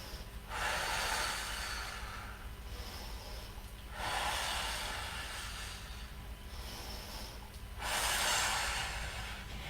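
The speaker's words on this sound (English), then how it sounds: "Breathe here for 3 breaths." Slow, deep breathing held in yoga bow pose, three long airy breath cycles with rushing inhales and exhales, close to the mic and alone without talking.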